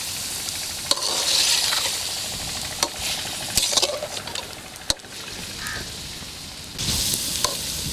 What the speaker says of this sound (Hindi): अब चिकन को अदरक और लहसुन के पेस्ट में 2-3 मिनट के लिए भून लेंगे।